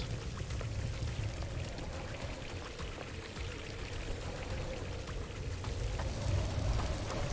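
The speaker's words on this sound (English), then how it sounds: "I'm hearing drip drips." Water dripping in the video game Paradise Killer, steady trickling and pattering drips over a continuous hiss, moderately quiet and unbroken throughout.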